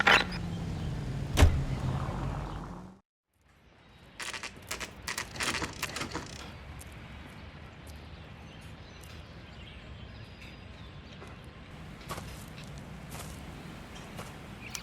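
In L.A. Noire Remastered on Xbox, a car starts with a loud clunk and door sounds. After a brief silence, a low engine rumble carries on, with scattered clicks and knocks over it.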